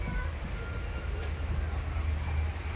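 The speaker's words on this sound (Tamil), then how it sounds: "Mayiladuthurai to Rameswaram train." Inside a Mayiladuthurai to Rameswaram express train as it runs, a steady low rumble of wheels and carriage fills the space, with a faint high whine above and soft clattering.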